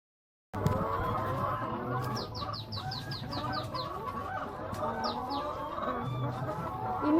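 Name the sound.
laying hens clucking in battery cages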